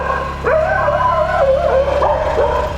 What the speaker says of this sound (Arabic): الكلاب دي بتجري على ايه كده؟